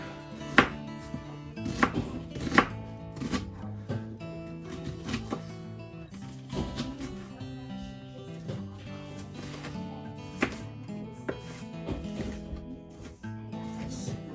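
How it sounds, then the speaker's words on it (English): A knife slices an onion on a cutting board for a chicken vegetable noodle soup. Repeated crisp cuts and thumps fall in an uneven rhythm, some louder than others, close by and with no talking. "We want to just slice it up into slices."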